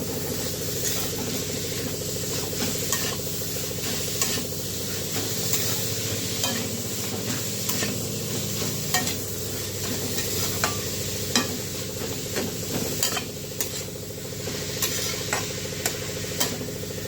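Turnip and potatoes fry in a pan with a constant close sizzle, punctuated by frequent scraping and stirring clicks throughout, with no voices.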